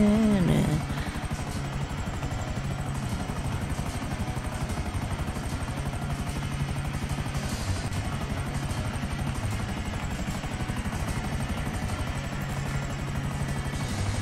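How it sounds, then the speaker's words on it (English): A stealth helicopter in the video game GTA 5 flies with a steady, continuous rotor drone and engine hum, loud and unbroken from start to finish. "Well, I've been flying this helicopter for like a year now"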